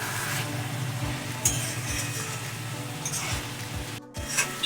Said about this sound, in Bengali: এটা আস্তে আস্তে হালকা করে একটু নেড়ে দেবো